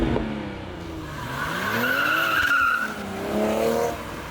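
Engine and exhaust of a car being driven hard through corners, revs rising and falling with a brief tire squeal, loud and close with no talking.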